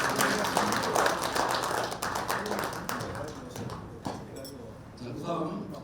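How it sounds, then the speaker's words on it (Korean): An audience at a Korean school centennial commemoration ceremony claps steadily and loudly, a dense patter filling the hall that fades slightly toward the end. "큰 박수 다시 한번 부탁드립니다"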